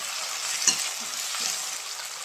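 Ginger-garlic paste, tomato and spices sizzle and fry steadily in a pan, with a brief stirring knock partway through, close and continuous.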